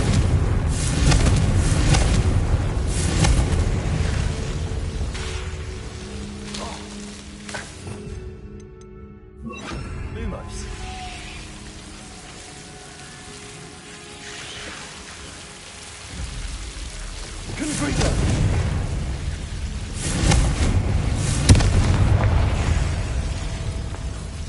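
Confringo fire-spell blasts in the video game Hogwarts Legacy come as rumbling, crackling explosions, loud at the start, quieter through the middle and surging again toward the end.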